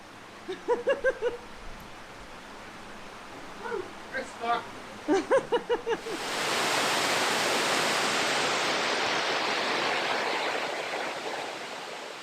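A steady roar of falling water rises and fills the second half, after a stretch of close voices talking over a softer background rush.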